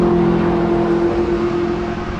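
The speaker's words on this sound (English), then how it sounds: "It is a true dual exhaust system. When you watch them go by, you'll be able to tell." An IROC race car with a true dual exhaust drives past, its engine note holding a steady loud drone that fades slightly as it moves away.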